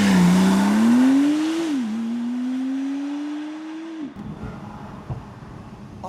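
A Porsche 911 Turbo S with a modified exhaust sound revs loudly up, dips and climbs again in a steady drone, then cuts off abruptly into a low idle rumble.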